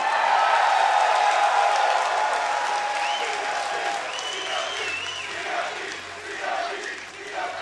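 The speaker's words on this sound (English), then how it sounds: "let me hear you guys cheer for Counter Logic Gaming." Esports crowd at a League of Legends NA Regionals match, CLG versus Legion, cheering and applauding loudly and steadily, with a few whoops rising above the dense roar before it thins slightly toward the end.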